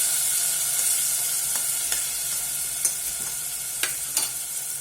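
Grated tomatoes sautéing in a little hot oil in a pan, a steady close sizzle with occasional sharp pops and stirring scrapes, no voices.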